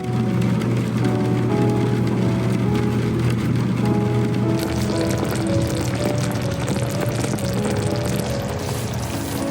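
Steady rain falls continuously on an outdoor surface, a dense even hiss held at a constant level throughout with no voices, under a faint low hum.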